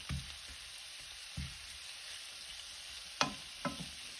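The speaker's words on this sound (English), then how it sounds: "And allow it to saute" Saltfish sancoche ingredients sauté in a pot with a soft, continuous sizzle broken by a few stirring scrapes and clinks, close and fairly quiet with no talk.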